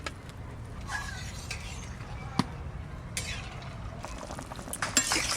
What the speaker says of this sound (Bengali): এবার জল দিয়ে দেবো। এবার আলু কটা ভালো করে সেদ্ধ হোক।